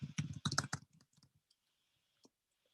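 Typing a command into a console on a computer keyboard: a quick burst of close, crisp key clicks, then scattered single taps trailing off into near silence.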